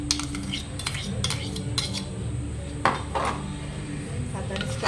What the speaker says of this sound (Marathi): दही आणि मिरची एकत्र करून घ्यायचं आहे